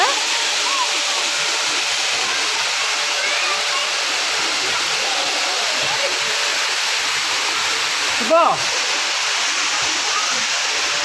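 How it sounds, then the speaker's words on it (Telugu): A waterfall at a resort in Bengaluru pours with a loud, constant rushing roar that fills the whole stretch, with a brief faint voice partway through. "ఇదండి వాటర్ ఫాల్స్ ఎంత బాగా వస్తుందో విన్నారా"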